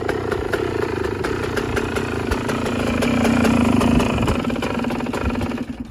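Yamaha YZ125 two-stroke dirt bike engine running cold with the choke just turned off, a loud, close, raspy buzzing idle that rises slightly in revs midway before settling.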